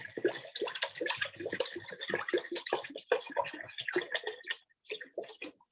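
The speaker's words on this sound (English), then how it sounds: "And now I'm gonna add my water." Water poured into a soup pot of seafood-scented greens soup, about half a gallon, a steady close splashing and gurgling that runs for several seconds before breaking into short spurts.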